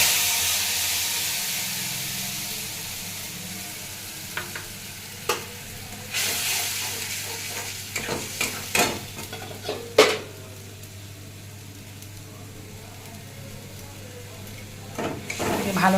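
Spice paste for a torka sizzles and fries in a pan while a spoon scrapes and stirs it, with a steady hiss, scattered metallic clinks and scrapes, and moderate loudness throughout.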